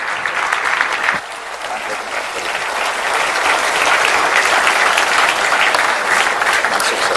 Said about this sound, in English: एक और बार big round of applause.